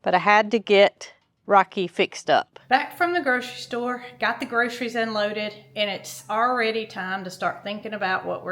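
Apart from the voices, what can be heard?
No distinct noise like a dog, phone or traffic.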